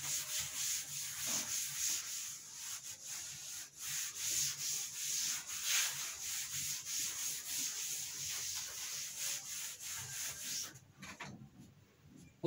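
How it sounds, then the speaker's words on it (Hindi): An eraser rubs writing off a classroom board during a physics lesson: steady, close back-and-forth scrubbing strokes for about eleven seconds, then it stops with no one speaking. "तो अब हम इस सभी को रब कर देते हैं।"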